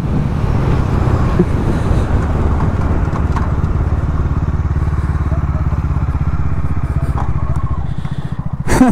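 Bajaj Dominar 250 and Hero Karizma XMR 210 motorcycles drag racing head to head, engines droning loud and steady as they run close by, with faint voices and a sharper sound at the end.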